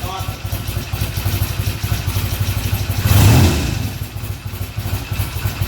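A 1975 Norton Commando Mk3 motorcycle with a tri-spark ignition idles just under 1,000 rpm in a steady, loping thump, with one brief louder blip partway through.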